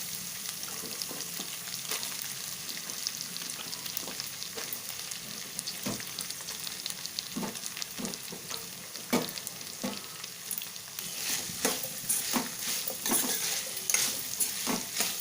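Capsicum pieces fry and sizzle in a pan with ginger-garlic paste and curry leaves, a steady hiss broken by repeated scraping stirs that grow busier toward the end.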